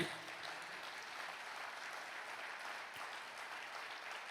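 A congregation claps together in praise of the Lord during a Christian religious talk, a steady, dense wash of applause sustained throughout without a break.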